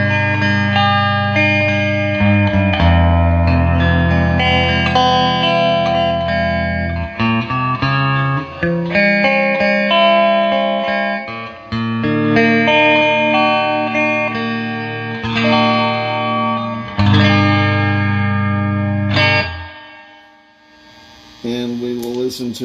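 Electric guitar chords ring out through a Fender Twin Reverb Silverface amp, reverb, speed and intensity at 4, with a spacious reverb tail and slight wobble, ending in a low fading hum.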